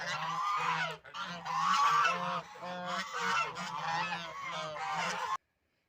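A flock of farmyard geese honks loudly and continuously nearby in a village, repeated nasal calls overlapping one another for several seconds before stopping abruptly.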